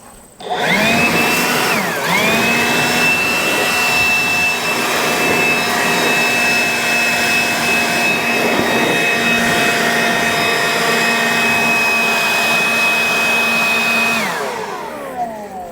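A blower clears debris off a rotary mower, kicking in with a loud, steady high-pitched roar that holds for many seconds, then winds down at the end.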